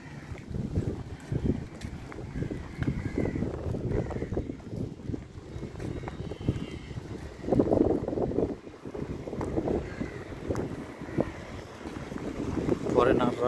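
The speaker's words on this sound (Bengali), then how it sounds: "প্রচুর স্পিড বোট, এগুলো সব স্পিড বোট।" Speed boats near Mafushi Island in the Maldives make a steady engine and water rush with strong wind buffeting the microphone, and faint voices come and go underneath.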